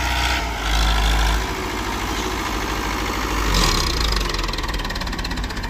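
A Mahindra tractor engine runs loud and close in second high gear, a steady rhythmic diesel chugging with brief surges in revs, and no talk over it.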